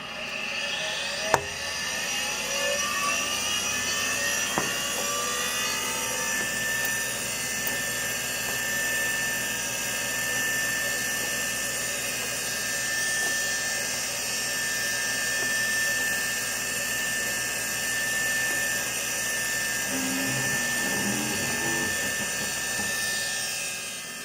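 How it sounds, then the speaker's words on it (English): A steady high-pitched whine with rising tones as a SCSI hard drive in a Compaq Prosignia 200 spins up, humming continuously with a few faint clicks and no talking. "you get to hear the SCSI hard drive spin up one more time"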